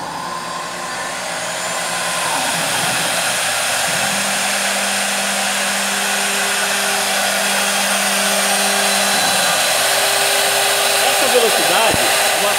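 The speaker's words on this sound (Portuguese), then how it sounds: "Vou apertar Start. O spindle vai ligar automaticamente." The spindle of a CNC router with a 6 mm cutter starts and runs, its steady high whine rising in level over the first seconds and then holding loud and continuous, with shifting tones and no speech.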